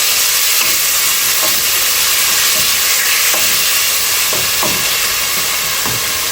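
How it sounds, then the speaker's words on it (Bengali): Blended onion fries loudly in a pan with a dense, constant sizzle, while a spoon knocks and scrapes against the pan in an irregular rhythm. "পেঁয়াজ দিলাম, ব্লেন্ড করা পেঁয়াজ, টেঙ্গা সব পেঁয়াজ দিয়ে দিব।"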